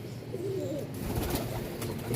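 Malwahyi pigeons give low, rolling coos nearby, one call rising clearly over others, with faint rustles and a steady ambient hum.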